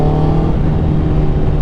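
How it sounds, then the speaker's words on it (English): An eBay aftermarket motorcycle exhaust fitted with its baffle revs in a steady, loud, continuous drone with a low throaty hum, heard alone up close. "Yeah, definitely the exhaust is tamer with"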